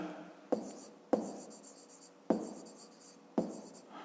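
A pen scratches out numbers on paper during a fifth-grade maths exercise, four quiet taps and short strokes spaced irregularly, close and soft.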